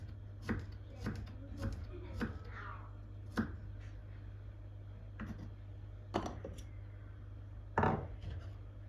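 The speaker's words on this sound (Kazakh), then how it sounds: "Мен сарымсақты осылай жұқалап тураймын" Knife chopping garlic thinly on a board, a handful of distinct sharp taps spaced irregularly, close and moderately loud over a steady low hum.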